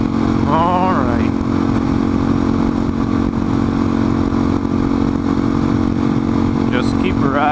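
Motorcycle engine droning loudly and steadily while riding on a road toward a freeway, a constant close hum with wind and some clatter.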